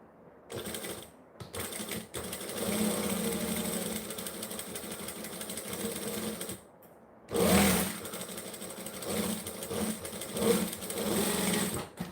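A sewing machine runs in steady bursts of stitching, with a short pause near the start and a louder restart around the middle, close and alone with no talk.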